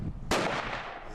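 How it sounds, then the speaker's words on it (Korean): A gas-cannon bird scarer on a Jeju farm fires one sharp, loud gunshot-like bang that tails off into a long echoing decay over low rumble. "소리의 근원을 확인해 보니 새를 쫓기 위해 농가에 설치된 조류 퇴치기입니다"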